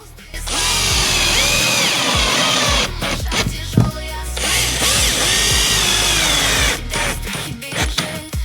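A power drill drives screws into acoustic wall panels during a bedroom install, loud whirring bursts rising and falling with brief pauses between screws.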